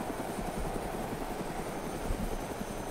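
A helicopter in the video game DayZ, heard from onboard in flight, with a steady, close rotor thrum and engine drone that continues evenly throughout.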